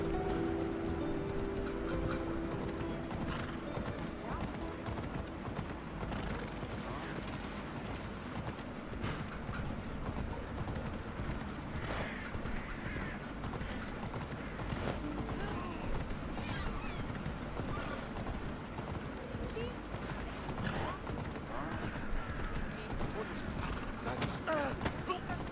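A horse gallops in the video game Assassin's Creed Odyssey, a fast, steady clip-clop of hooves mixed with wind rush and continuous game noise. Someone talks over part of it.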